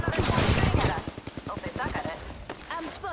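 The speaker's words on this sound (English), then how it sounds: "I'm spotted, taking fire." Rapid bursts of automatic gunfire in the Apex Legends video game, loud and rattling in quick succession, with a voice talking over part of it.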